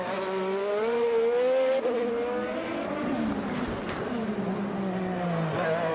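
IndyCar race car lapping the Detroit street circuit during qualifying, a loud continuous engine note with shifting pitch as it bounces over the bumpy streets, close and steady throughout.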